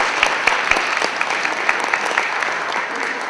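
A middle school drama audience applauds a pageant-style lineup in a school theatrical show, steady dense clapping with a few sharper claps near, continuing evenly throughout without speech.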